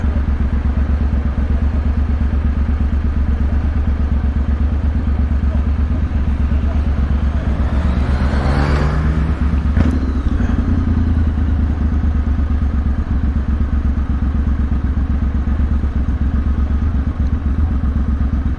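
Motorbike engine and exhaust riding through London streets at night, with a steady loud low rumble throughout and a brief rising rev and clatter midway.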